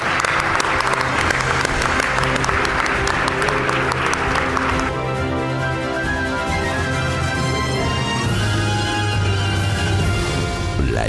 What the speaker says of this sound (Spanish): Un aplauso para Israel Espino.